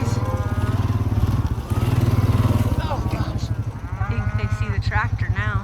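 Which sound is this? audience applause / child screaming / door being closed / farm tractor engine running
farm tractor engine running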